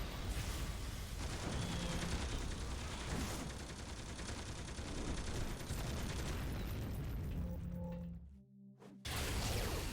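Power generator explosions in the video game City of Heroes, a dense, loud barrage of blasts and crackling bursts running almost continuously, briefly dropping off before a final burst at the end.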